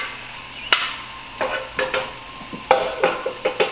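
Fresh onion, ginger and scallion cook in a pan for Jamaican beef patty filling: a soft sizzle under repeated sharp utensil scrapes and knocks while the mixture is stirred, and no voices.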